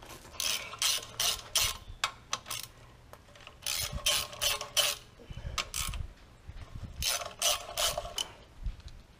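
A ratchet with a 9/16 socket on a long extension loosens bolts on an Oliver tractor PTO shield, giving close, crisp bursts of rapid clicking in several rhythmic runs separated by short pauses.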